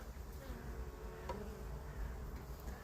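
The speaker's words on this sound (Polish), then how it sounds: "Pszczółki, jak widać, jeszcze przylatują z pyłkiem." Honeybees flying in with pollen at a hive in late October, a continuous low buzzing drone of many insects nearby, steady and without talk.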